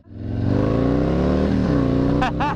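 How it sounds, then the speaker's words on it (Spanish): A motorcycle fitted with an S&S 128 engine kit and D&D exhaust revs loudly up close, its deep exhaust roar holding steady, with a voice breaking in near the end. "Ese escape D&D suena."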